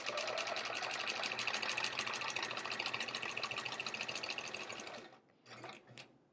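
A sewing machine runs steadily while stitching quilt rows of an hourglass block quilt, its needle unchanged and its bobbin nearly empty, giving a fast, even mechanical whir for about five seconds before stopping, then a few brief short runs.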